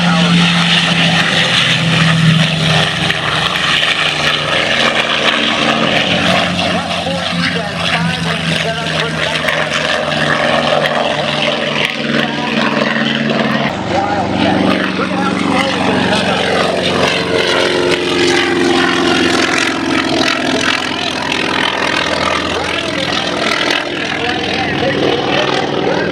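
Grumman F7F Tigercat with twin R2800 radial engines flying past at the 2014 Houston air show, a loud sustained propeller drone that swells and shifts as it passes, with a public address commentator talking throughout.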